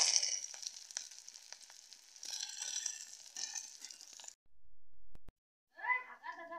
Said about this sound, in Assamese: তেলখিনি গৰম কৰি লৈ মই হালধি দিছোঁ আৰু আলু কচু সেই দি দিছোঁ মই।